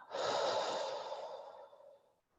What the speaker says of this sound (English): We'll start with a deep breath in and then a big breath out.